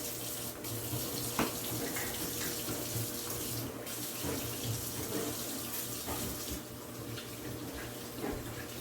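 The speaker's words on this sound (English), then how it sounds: "let me wash my hands" Tap water runs steadily into a kitchen sink during handwashing before cooking supper, a continuous splashing stream heard alone and close.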